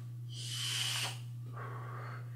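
A soft, hissing inhale drawn in close from a vape, followed by a quieter breathy exhale over a low steady hum.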